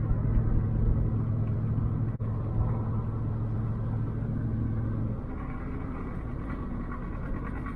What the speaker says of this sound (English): I think a tire's shredding